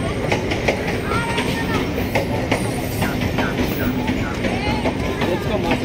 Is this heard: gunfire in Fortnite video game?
no